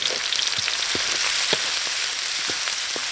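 Salty seasoning stir-fries in a hot pan, giving a loud, constant sizzle with soft scraping stirs every half second or so.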